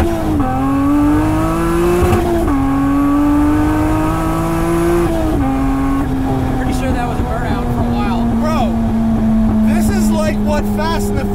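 A 500 horsepower rear-wheel-drive luxury Mini rolls on in second gear from 3,000 RPM, its engine note climbing steadily and loudly from near the cabin, with a brief dip at each shift.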